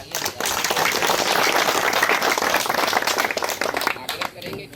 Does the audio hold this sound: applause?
yes